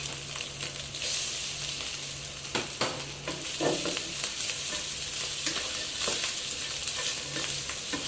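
Steady loud sizzling of shrimp stir-frying in a hot pan, with scraping and clanking stir strokes at irregular intervals, close up and without voices.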